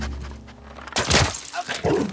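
A dog in The Last of Us Part 2 gives a few sharp, close barks after a quiet stretch, mixed with thumping game noises.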